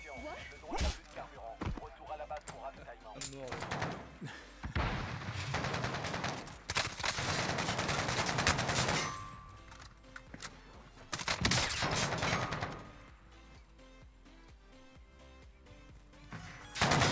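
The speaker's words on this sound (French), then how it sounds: "Je tire à travers tous les murs" Bursts of rapid gunfire in a first-person shooter game, sharp cracks and longer volleys coming in uneven waves with quieter gaps between them, the shots firing through walls.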